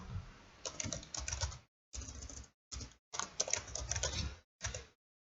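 Fast typing on a computer keyboard, close and quiet, in several short bursts of rapid key clicks separated by brief silences, with no talking.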